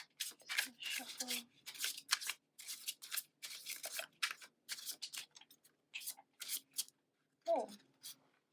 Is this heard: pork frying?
no